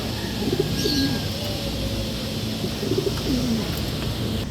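A pigeon coos nearby in soft repeated phrases, set against steady outdoor background noise.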